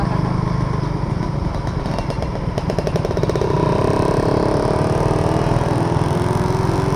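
A motorcycle engine runs loud and close for the whole stretch, a steady rough drone that pulses briefly in the middle as if revved.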